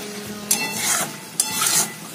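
Dal tarka stirred in a pan, two distinct bursts of scraping stirring over a soft sizzle, close and clear with no voices.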